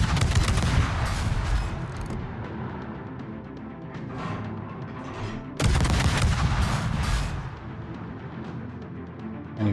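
Naval guns on warships in a video game, likely including the G J Maerker, boom in dense, rumbling volleys, with a loud fresh salvo crashing in midway and rolling echoes between shots, close and heavy, with no speech.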